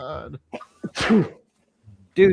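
A single sharp sneeze bursts out between bits of casual talk, close and loud.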